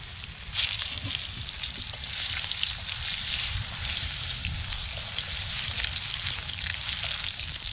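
Tomato dropped into a pan of koi fish curry cooking outdoors, setting off a loud, steady sizzle and crackle that persists close-up and unbroken for several seconds, with no talk.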